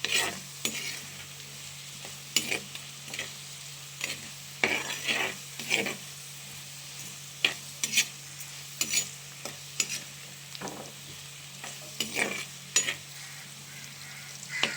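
Plenty of garlic frying in a pan for poondu kulambu, a faint background sizzle broken by frequent sharp scrapes and clinks of a spoon stirring against the metal, irregular and close.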